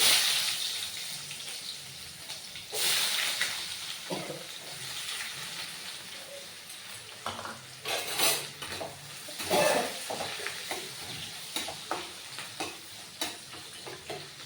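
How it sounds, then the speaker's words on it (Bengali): Small finely sliced onions dropped into hot oil for an egg-and-onion taro-leaf dish crackle and sizzle steadily up close, with intermittent clinks and scrapes of a utensil stirring against the pan. "পেঁয়াজগুলো আমি তেলের মধ্যে দিয়ে দেবো।"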